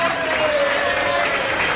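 Wedding reception guests applaud the band after a set of Macedonian music, a steady wash of clapping filling the room with a sustained note ringing through it and talk mixed in.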